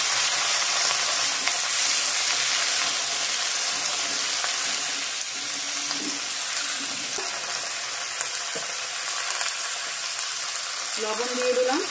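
Potatoes and cauliflower sizzle in a pan with cumin and crushed ginger while a Bengali fish curry lunch is cooked; a steady, fairly loud frying hiss runs throughout with a few faint clinks.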